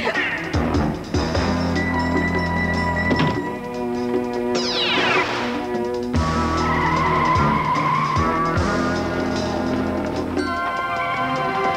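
Car tires skidding and squealing in an old adventure cartoon, a loud sweeping screech over busy orchestral music with dense harmonic lines and a few impacts.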